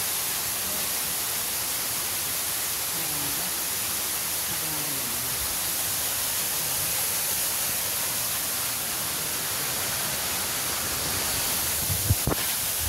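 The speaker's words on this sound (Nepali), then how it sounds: "रियल झर्ना कत्रो ठुलो झर्ना छ हेर्नु त" Broad, steady rushing roar of a large waterfall at Sundarijal in Kathmandu, continuous and loud throughout, with a brief sharp knock near the end.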